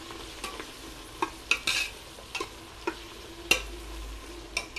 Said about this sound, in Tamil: இது நல்லா சிம்மில் வச்சுட்டு நல்லா ப்ரௌன் ஆகிற வரைக்கும் நல்லா வதக்கிக்கோங்க